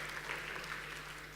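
An audience at a startup conference in Istanbul claps steadily for a brief moment, forming a dense, even wash of applause with a faint low hum underneath.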